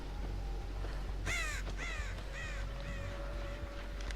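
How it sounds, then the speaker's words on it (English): Several loud crow caws from the video game Dead by Daylight ring out in a rapid series of four or five calls, set over a steady low dark ambient drone with a faint sustained tone. "Just watch out for the crows there."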